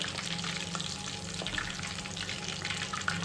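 Chicken for chilli chicken fries in hot oil, producing a steady, close crackling sizzle that continues evenly throughout.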